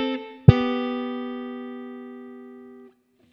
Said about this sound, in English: this is kind of one of the signature licks in the song